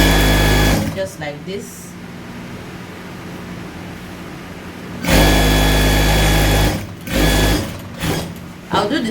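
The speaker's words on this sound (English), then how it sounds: "Then I'm just going to sew it straight," A sewing machine runs in loud bursts as it stitches a straight seam on a tote bag, starting and stopping several times while someone talks between runs.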